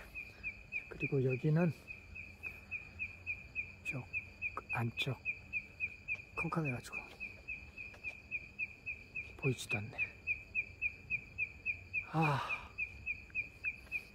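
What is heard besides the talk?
frogs croaking at night, tropical island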